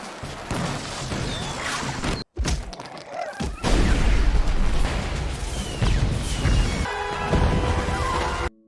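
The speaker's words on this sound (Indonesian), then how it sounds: "Para semut hitam langsung menggunakannya dan menyerang pasukan semut merah dengan semua senjata petasan mereka" Cartoon firecracker weapons go off in an animated ant battle, a dense run of thuds, pops and booming blasts with crackling debris, loud and near, with a brief silent break.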